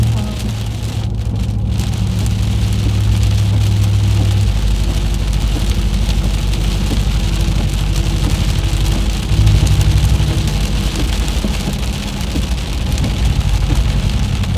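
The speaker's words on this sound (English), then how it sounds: "We got lots of rain." Heavy rain pours steadily on a vehicle during a severe-weather storm chase, a loud, dense, continuous wash with a low engine-like rumble underneath and no talking.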